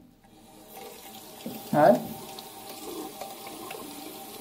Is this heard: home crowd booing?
no